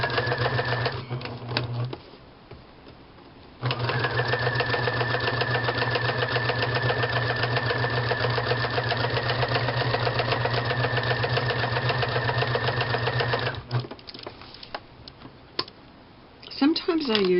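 Sewing machine stitching fabric for an embroidered postcard with a 1.5 stitch width: a fast, even mechanical whir of the needle, running loud and close in two bursts with brief pauses between.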